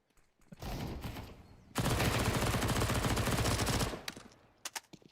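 Sustained submachine-gun fire in a competitive video game match, a steady rapid burst lasting a couple of seconds after a shorter opening spray, loud and close with a few isolated shots trailing off at the end.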